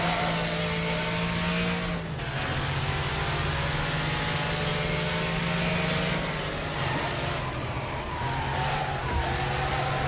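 Cars in the Wreckfest racing video game, with sustained loud engine drone and revving throughout, a pack of race cars roaring together with a brief dip and shifting pitch as the field jostles and collides.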